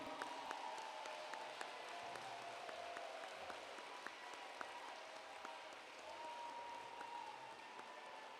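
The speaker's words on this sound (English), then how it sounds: "A round of applause, everyone." An awards ceremony audience applauds, a steady, fairly faint wash of many hands clapping in a large room, with a sustained tone from music or feedback beneath.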